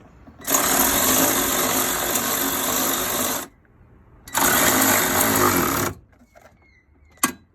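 A power tool drives 6mm bolts on a dual battery tray being installed in a 70 series 4x4, giving two loud, steady bursts of whirring about three seconds each, with a quieter pause between them and a short clack at the end.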